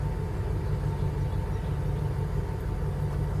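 A 1995 Jeep Grand Cherokee ZJ 5.2 with 373,893 miles idles at operating temperature, a steady low rumble that holds even and unbroken throughout.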